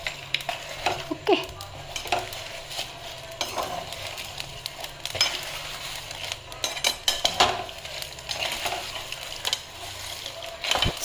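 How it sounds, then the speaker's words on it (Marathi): Agri-style garam masala spices being stirred and dry-roasted in a small, overfilled kadhai: continuous crackling and sizzling with repeated scraping of a spoon against the metal, close up and with no talking. "आपल्या घरामध्ये वापरण्यासाठी जो गरम मसाला लागतो तो आता इथे भाजते"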